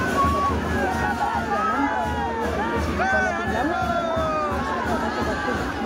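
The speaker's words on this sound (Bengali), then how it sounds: "আর এই পরে দেখো কত ভিড়, বাপ রে বাপ, এত ভিড় কি বলবো" A dense crowd mills and chatters at the Rath fair at Gaur Math, Shaktigarh, a steady roar of overlapping voices with occasional shouts and whoops rising above it.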